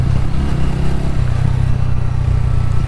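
A TVS Ronin motorcycle engine pulls steadily under throttle, a loud, close, continuous low drone with some clatter, building power slowly over a few seconds.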